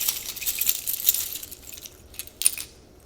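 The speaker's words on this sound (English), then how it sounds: "I have keys and a marble." Keys and a marble jangle and clink in a hand, a run of bright metallic rattles with a few sharper clinks near the end, close and fairly quiet with no talking.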